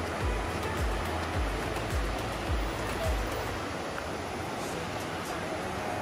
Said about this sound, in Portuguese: Agora dá para ouvir até o som da cachoeira